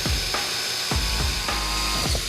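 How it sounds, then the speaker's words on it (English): Jigsaw cutting through wood during a home makeover, a loud, steady buzzing rasp with rhythmic dips as the blade bites, close up and continuous. "And then with the jigsaw, just work your way around."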